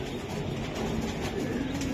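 A pigeon, a Giribaz or Pakistani teddy bird, coos softly and low in a steady, murmuring run, faint and close, with no voices.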